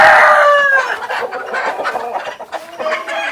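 Village chickens on a Jaffna farm cluck loudly and close by while a rooster crows near the start, with the hens' clucking continuing in an irregular stream and no talk.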